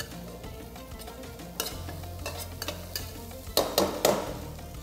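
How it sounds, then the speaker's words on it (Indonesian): Phuket-style fried rice is stirred and tossed in a pan over a flame, with steady sizzling and frying under scraping and clinking of a spatula against the pan, several louder metallic scrapes near the end, and no talking. "Dan kita terus buka semula api dan kita akan gaulkan dia."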